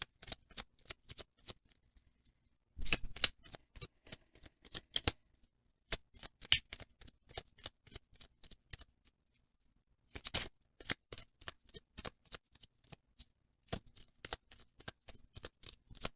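A deck of tarot cards being riffle-shuffled in several separate bursts, each a quick flurry of crisp flapping, with pauses of quiet between.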